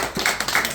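An audience clapping at a Korean talk event, a brief burst of scattered applause.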